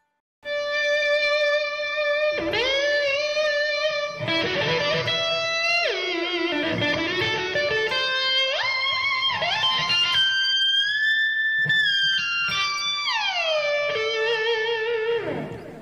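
An electric guitar through a whammy pitch-shifting pedal plays sustained notes that swoop up and down in pitch, with long glides bending far above and below the original tone.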